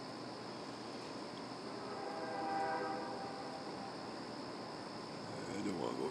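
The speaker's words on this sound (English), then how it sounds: "Hey, we got a train in the background again." Train going past in the background, a faint rumble of rolling wagons with a soft horn-like tone, steady at a distance and swelling briefly partway through.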